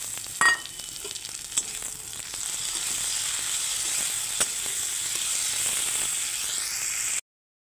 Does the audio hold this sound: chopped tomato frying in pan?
yes